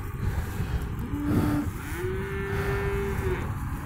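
A dairy cow gives a long, low moo at a livestock market in Tokmok, nearby and fairly loud, over a steady background hum.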